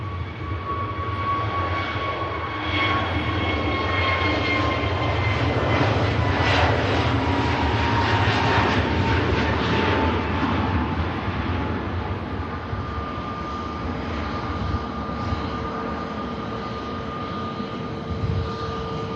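A KLM airliner sits lined up on the runway at Manchester Airport, its engines giving a steady loud roar and whine with a rumbling low end, heard from a distance and running continuously.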